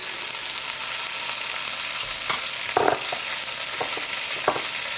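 Capers and fresh chilli hitting hot oil in a pan, a loud continuous frying hiss with a few brief clinks and scrapes partway through, close up and with no voices.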